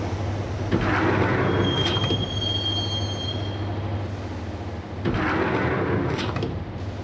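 Subway train ride in the video game Max Payne, a steady loud rumble of car and wheels on rails with a long high wheel squeal in the middle and a second swell of clatter near the end, no voices.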